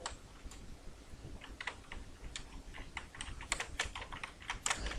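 Fingers type on a computer keyboard in uneven bursts of close, crisp key clicks, getting busier toward the end, with no talking.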